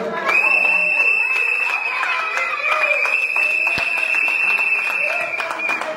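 Guests at a Congolese church wedding in Argenteuil applaud and cheer for the newly married couple, a steady wash of clapping and crowd noise that carries on the whole time, with voices mixed in.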